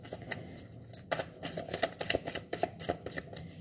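Tarot cards are shuffled by hand in a run of crisp, quick riffles and taps, soft and close, with irregular bursts of papery clicking.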